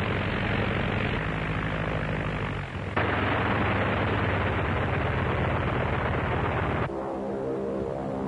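A propeller airplane engine roars steadily and loudly throughout, with a brief dip and shift in tone partway through, as if revving or passing, and no voices.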